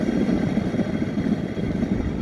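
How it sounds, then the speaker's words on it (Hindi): A worn bearing in an electric bike's hub motor grinds in a steady, rough low rumble as the motor plate is turned by hand, loud and close with no talking. "इसमें जो आवाज़ अभी आ रही है, एक मैं आवाज़ आपको चेक करा देता हूँ, ये बैरिंग की आवाज़ है।"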